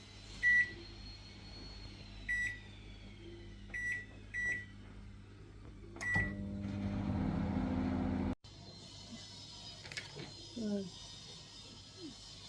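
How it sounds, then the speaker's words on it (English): A microwave oven runs to melt butter, giving a steady hum after a series of sharp button beeps. The hum stops abruptly, followed by faint kitchen clatter and a few quiet beeps. "So I'm gonna go in the microwave."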